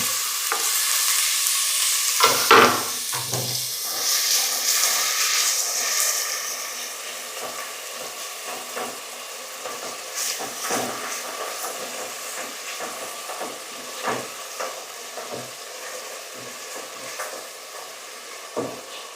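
Onions sizzle and fry steadily in hot oil for a mutton head curry, with stirring and scraping clatter scattered through, and a louder burst of sizzling near the start as they go into the pan.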